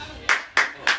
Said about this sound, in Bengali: ভাই সবাই জোরে হাততালি দিস।